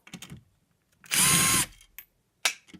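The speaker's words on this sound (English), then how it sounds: "I'm going to get an impact driver just to pop these out really fast." Impact driver backing screws out of a light switch plate, with one short, loud, close burst of whirring and rattling, framed by small clicks and handling knocks.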